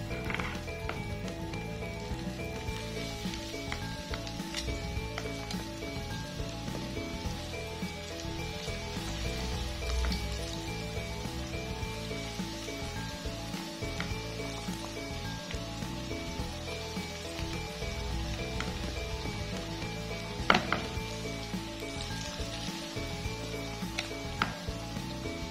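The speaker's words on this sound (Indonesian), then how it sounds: "Kita masukkan, kita goreng." Cassava pieces fry in hot oil with a steady, dense sizzle and crackle that holds evenly throughout, joined by a sharp clink near the end.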